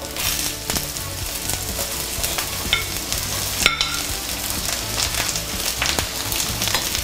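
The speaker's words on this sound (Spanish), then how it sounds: "vamos a empezar a freír" Garlic and onions fry in a little oil in a pan, a steady broadband sizzle with occasional stirring scrapes and small clinks, close and continuous without any talk.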